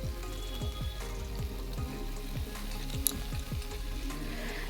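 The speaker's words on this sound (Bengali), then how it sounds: "তেলটা গরম হতেই আমি দুটো শুকনো লঙ্কা ফোড়নে দিয়ে দিলাম আর কুচি করে রাখা পেঁয়াজটাও ওর মধ্যে অ্যাড করে দিলাম" Dried red chillies and chopped onion sizzle in hot mustard oil in a pan, a steady close hiss of frying that runs throughout at an even, moderate level.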